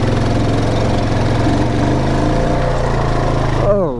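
A loud off-road vehicle engine runs steadily in four-wheel drive before driving into mud, with a deep rumble throughout and a rising rev near the end before it cuts off.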